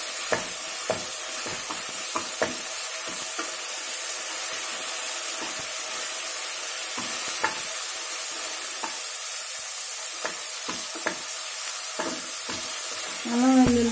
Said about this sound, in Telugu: అల్లం వెల్లుల్లి పేస్ట్ వేసి కొంచెం సేపు వేయిద్దాం.